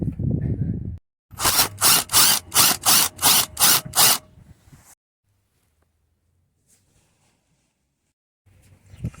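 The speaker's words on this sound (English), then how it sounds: "it should wind back in with the impact then" An impact wrench working on a Ford Focus front strut during a strut replacement, firing seven loud, evenly spaced hammering bursts in quick succession, followed by quiet and faint clinks.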